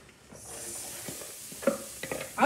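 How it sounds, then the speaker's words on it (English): Chopped onions and peppers are tipped into a pot and stirred with a wooden spoon, giving soft scraping and knocking with a faint hiss, sharper clacks near the end. "And then you can dump all the onions and peppers in there."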